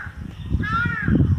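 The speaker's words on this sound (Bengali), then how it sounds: "কাক ডাকছে, ওই দেখো কা কা করছে" A crow near the hogla reeds of the Sundarbans gives one short harsh caw, moderately near, set over low rustling and outdoor background noise.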